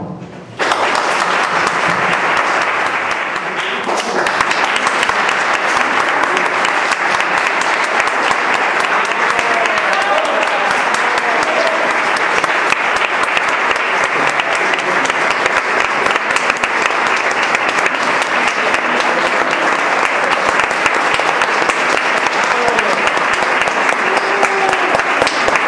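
Sustained, dense applause from a concert audience for young musicians in Rute, a loud continuous roar of many hands clapping that starts abruptly and holds steady for over twenty seconds with no talk.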